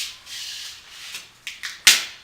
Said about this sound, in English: I'm going to do one last taping just along this edge here to finish it off.